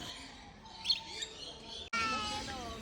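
Outdoor birds chirping, with a few short bright tweets and a soft call against a quiet background during a road trip, followed by a louder stretch of ambient noise.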